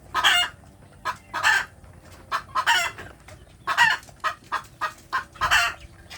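Village chickens cluck softly and repeatedly at close range while they are fed and held. Short clucks alternate with longer drawn-out calls against a low background murmur.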